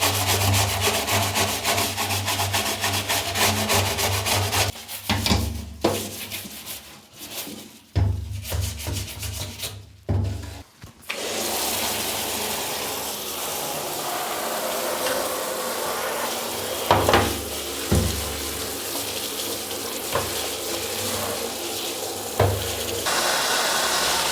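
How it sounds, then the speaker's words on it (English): A Commodore 64 plastic case being scrubbed with sponges and brushes in soapy water, producing steady close wet rubbing and swishing that continues throughout with scattered splashy bursts and brief pauses. "soak it in water, in soapy water, and use some sponges and some brushes to clean it off."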